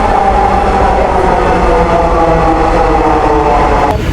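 A Dhaka metro rail train at Agargaon station gives off a loud, continuous rumble and roar at the platform, with a sharp brief squeal near the end.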